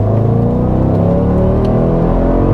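An Audi S4 with the 4.2 V8 and a Stage 1 ECU tune pulls hard through second gear, its engine note climbing steadily and loud, heard close from inside the car with no talking.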